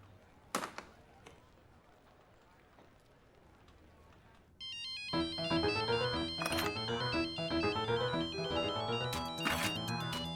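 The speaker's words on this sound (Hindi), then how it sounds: "राज का फोन" A telephone ringtone plays loudly and continuously in the second half with a repeating melodic chime, after a quieter stretch with a sharp knock or clack near the start.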